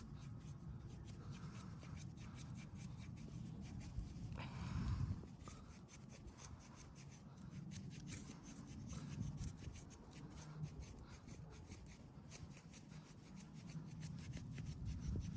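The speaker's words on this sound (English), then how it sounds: "this is just using the serrations to make some feather sticks" The serrated edge of a GRITR Expedition tactical survival knife scrapes wood into feather sticks outdoors, a rapid run of close, rasping strokes that repeat steadily with a brief louder scrape midway.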